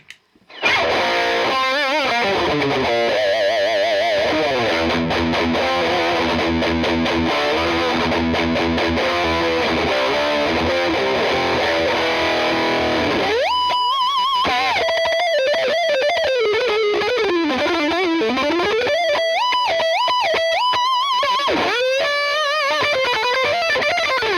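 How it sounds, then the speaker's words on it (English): A heavily overdriven Fender Yngwie Malmsteen electric guitar through a Boss Nextone amp plays fast runs and sustained bends, loud and continuous, with gritty distortion throughout and no talking. "So, with the Fender Yngwie Malmsteen, it now sounds like this"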